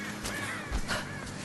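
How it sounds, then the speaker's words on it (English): A crow in Rise of the Tomb Raider gives two or three harsh caws in quick succession, moderately close over quiet outdoor ambience. "Nope, that's a bird."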